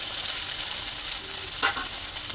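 Salted, turmeric-coated koi fish fry in hot oil, giving a steady loud hiss and sizzle throughout with a couple of brief scraping stirs near the end, with no voices.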